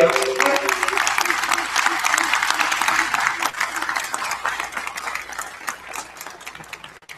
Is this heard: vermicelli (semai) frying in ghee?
no